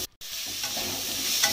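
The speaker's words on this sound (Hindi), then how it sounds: "अब हम प्याज को डाल देंगे और इसे भूजेंगे अच्छे से।" Onions hit hot oil in a pan for a matar curry, a brief silence then a sudden strong, close, steady sizzle that holds to the end.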